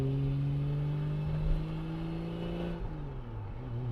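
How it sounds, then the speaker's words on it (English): A BMW E30 converted from automatic to manual drives along with a steady tonal whine from the differential or transmission over the engine hum, the pitch shifting as the car changes speed. "trying to determine this whining noise,"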